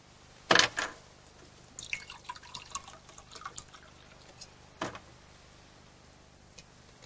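Tonic water is poured into a glass indoors: a sharp splash and clink near the start, scattered soft drips and fizzing ticks, then another brief splash, all quiet with no talking.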